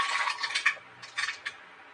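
Whole spices such as cinnamon and cloves land and sizzle in a hot pan for ghee rice, a bright crackling hiss in short bursts with small rattling taps.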